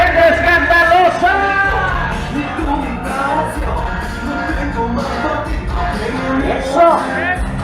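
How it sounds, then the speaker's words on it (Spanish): A 15th-birthday party crowd in a Mexican event hall yells, whoops and cheers loudly over pounding dance music, voices rising and falling continuously throughout. "¿Y dónde está el grito de la gente escandalosa?"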